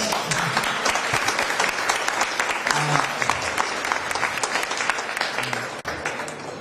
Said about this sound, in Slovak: zaslúžili si veľký potlesk